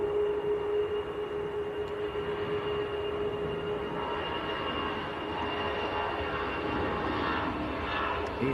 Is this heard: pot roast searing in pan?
no